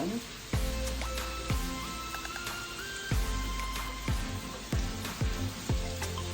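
Meatballs frying slowly in a pan of spaghetti-sauce cooking, a steady soft sizzle close by, with repeated low thumps and clinks of a utensil and pan over it.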